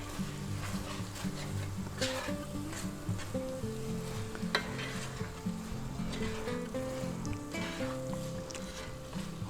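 Stir-fry of pork with carrots, corn and beans sizzling steadily in a hot pan after a soy sauce mixture is poured in, with continuous crackling fry and occasional scrapes and clinks of stirring, close and fairly loud.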